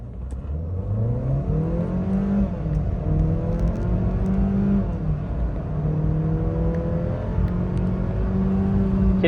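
Volkswagen Vento with a 1.2 TSI turbo petrol engine (EA111) under way, its steady engine hum rising and falling through smooth gear changes as the car accelerates, heard close from inside the cabin.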